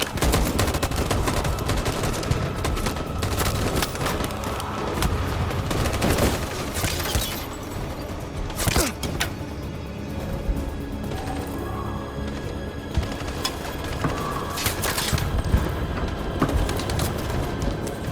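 Dense, continuous gunfire with rapid automatic bursts and loud sharp shots fills a battle scene in the video game Detroit: Become Human, sustained and close throughout.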